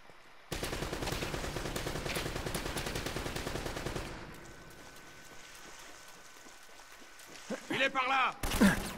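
Rapid gunfire from the game Uncharted: Drake's Fortune, a loud sustained burst over about four seconds, then quieter game ambience with a few sharp bursts near the end; someone talks in French underneath.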